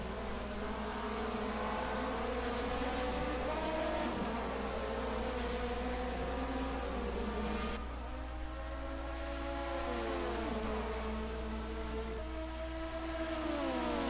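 Schnitzer BMW race cars at a 1980 DRM Division 2 sprint race roar along the track, several engines whining and shifting pitch in overlapping sweeps over a constant loud drone, heard at a distance.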